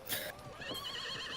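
A horse neighs briefly, a sharp bright opening call followed by a wavering whinny that trails off, moderately close with no talk.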